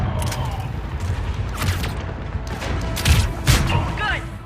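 Carnage ability blasts in Mass Effect 3, set among rapid gunfire: sharp booms and bursts of explosive impacts, the loudest near the end, over a dense battle din with voices underneath.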